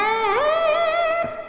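An electric guitar plays a quick rock pentatonic lick: a note bends up, then wavers with vibrato and sustains, close and loud, with a soft pick attack near the end.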